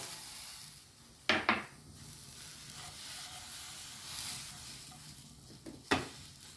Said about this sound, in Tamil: மீடியமாக வச்சு அடுப்பை நிதானமாக வச்சு நல்லா வறுக்கணும்